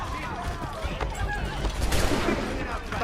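Musket gunfire in Assassin's Creed 3, a few sharp cracks amid a chaotic mix of battle noise and shouting voices.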